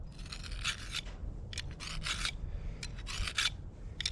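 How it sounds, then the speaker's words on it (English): A fillet knife being sharpened on a Triton Blade Master for cleaning crappie, heard as a series of close, rasping strokes in bursts of uneven length with brief pauses between them. "I sharpen it with my Blade Master from Triton."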